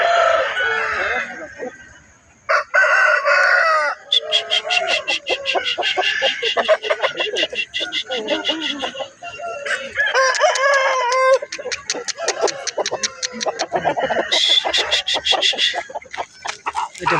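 Roosters crow over and over while chickens cluck at a busy Tuesday village haat in Balarampur, where fowl such as a black-skinned rooster are sold; the calls are loud, close and almost continuous.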